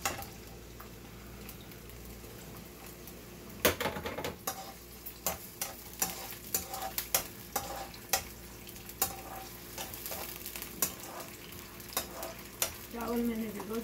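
Onions frying in oil in a kadhai, a steady close sizzle broken by repeated sharp scraping and stirring strikes of a spoon against the pan, with no talk.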